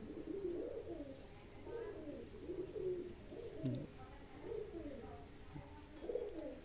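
Pigeons coo repeatedly in a loft, their low throaty calls rising and falling in a steady rhythm at close range, with faint background noise between calls.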